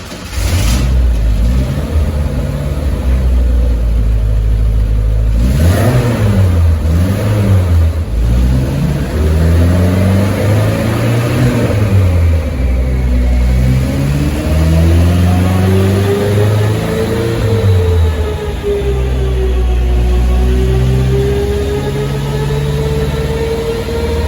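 A 1969 Renault 10 engine runs on a dyno, blipping through several short revs before climbing into a long sustained pull with rising pitch, loud and close, easing off near the end.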